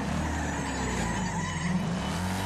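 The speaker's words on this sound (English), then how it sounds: "Listen to those brakes." Car brakes and engine in the racing video game Wreckfest, a sustained mechanical drone with a hissing, squealing brake-like tone steady throughout, no talk.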